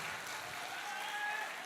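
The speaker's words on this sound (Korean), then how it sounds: "충북의 동지들께서 응원과 연대와 지지의 박수 힘차게 부탁드립니다." Applause from a convention audience of Democratic Party members at a regional party convention, a steady, fairly faint wash of clapping sustained throughout without breaks.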